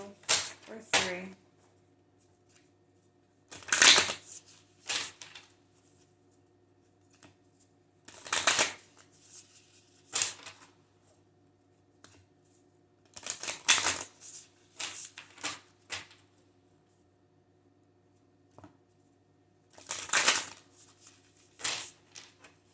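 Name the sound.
shuffling oracle cards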